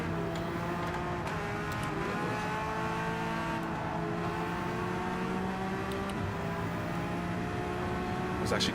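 Race cars on track in the Gran Turismo video game, including a Porsche 992R, engines droning and shifting in pitch continuously under a low layer of talk, with occasional sharper tire or contact noises.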